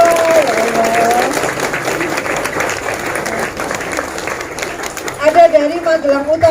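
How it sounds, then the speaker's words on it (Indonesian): Applause breaks out at a Pancasila Day ceremony for competition winners, a sustained round of clapping from a large crowd, loud and steady, with voices around it and a tone sounding at start and end. "tepuk tangan untuk mereka semua"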